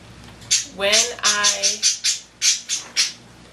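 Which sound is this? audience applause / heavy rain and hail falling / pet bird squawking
pet bird squawking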